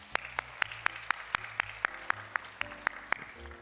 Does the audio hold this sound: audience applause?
yes